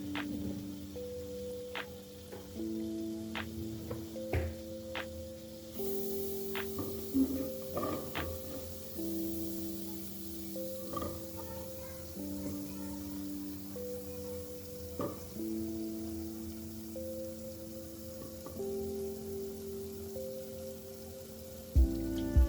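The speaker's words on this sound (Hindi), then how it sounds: "ये जो मेरा बटर है वो मैंने इसमें डाल दिया है। जैसे ही बटर थोड़ा सा मेल्ट होगा" Butter melting in a pan sizzles softly and steadily throughout, a faint crackling hiss under tonal kitchen sounds and scattered light clinks, with a brief louder clatter at the end.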